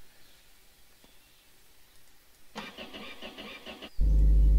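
A Niva car engine cranks after a quiet stretch, sputters for over a second, then catches and settles into a loud, steady running roar.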